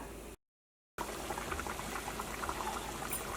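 Water boiling hard in a cooking pot before koorka (Chinese potato) is added. It makes a steady, close bubbling roar with no talking, broken only by a short silent gap near the start.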